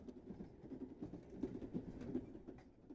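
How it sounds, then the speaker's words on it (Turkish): A train passes at a rail crossing as a continuous, rumbling low roar with faint rhythmic rattling, fairly quiet and steady throughout with no talk. "Tren abi yavaş ol."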